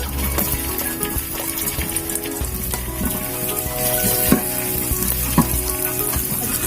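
Crushed ginger and garlic frying in a little oil, a continuous loud sizzle with stirring scrapes and some watery bubbling, no voices.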